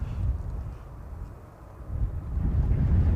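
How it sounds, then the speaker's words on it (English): Gusty wind buffets a microphone outdoors at an airport, a steady low rumble that swells and strengthens toward the end, with no speech. "the wind's blowing"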